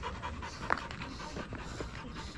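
A dog pants rapidly and quietly close by after drinking water, a soft rhythmic breathy huffing with a brief sharper sound partway through.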